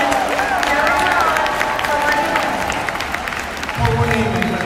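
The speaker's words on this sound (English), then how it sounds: "give her a round of applause" An audience at a USANA convention applauds, a dense crowd of clapping and cheering that stays loud throughout while a voice talks over it.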